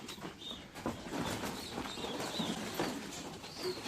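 Racing pigeons inside a loft coo softly in scattered, overlapping calls, faint and close by, with occasional wing rustles and no one speaking.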